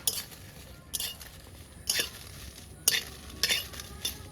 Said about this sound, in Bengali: লঙ্কাটা একটু ভেজে আগে ভেজে নিচ্ছি